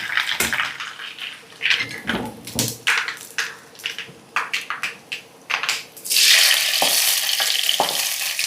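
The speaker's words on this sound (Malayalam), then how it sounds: "ഇനി നമ്മുടെ കാളനിലേക്കും സാമ്പാറിലേക്കും താളിക്കണം." Spices crackling in hot coconut oil while being tempered for kalan and sambar, with irregular sharp pops and bursts that swell into a loud continuous sizzle toward the end.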